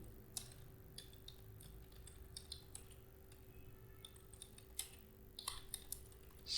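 Quiet, close clicking of keys on a computer keyboard as a command is typed, with irregular bursts of light taps over a low steady hum.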